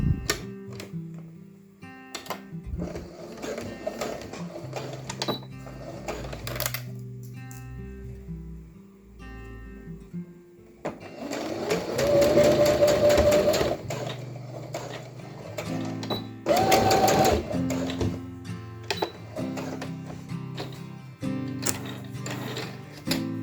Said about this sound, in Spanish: me voy a la máquina de coser